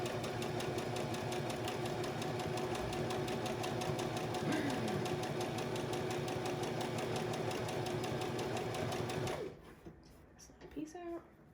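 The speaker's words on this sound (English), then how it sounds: "So I'm sewing right along that pipe cleaner." A sewing machine runs steadily, stitching a fabric face mask along a pipe cleaner at the nose, its rapid mechanical whir continuous for several seconds before it stops abruptly, leaving faint handling noises.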